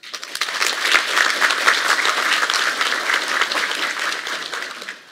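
Sustained applause from a large audience at an academic year inauguration at Koszalin University of Technology, Poland, steady and dense clapping that fills the whole stretch before fading slightly at the end.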